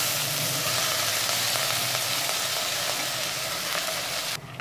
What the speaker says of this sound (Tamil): அரிசி பருப்பு சேர்த்து லேசாக இந்த எண்ணெயில் ஒரு நிமிஷம் நல்லா கலந்து விட்டுக்கலாம்.